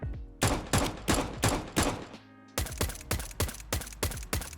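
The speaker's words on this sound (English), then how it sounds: "Finally, we have the sound of the USP in Counter-Strike 2." Crisp suppressed USP pistol shots from Counter-Strike 2 ring out in quick succession, a run of about six, a short gap, then another rapid string, close and punchy.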